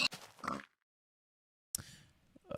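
Pigs oink in a Minecraft-style video game, short grunting calls heard in two bursts separated by a silent gap, fairly faint.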